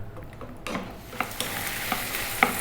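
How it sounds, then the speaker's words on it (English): Small pieces of beef frying in a pan over medium heat, a soft continuous sizzle that grows after a moment, with occasional light clicks and scrapes of stirring. "So for about 4 to 5 minutes, just on a medium heat, we're going to fry this around."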